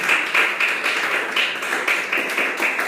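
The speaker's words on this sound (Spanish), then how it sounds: "Un fuerte aplauso al Señor." Congregation at a church seminar claps for the Lord, a dense, even patter of many hands with rhythmic swells, loud and close, no voices over it.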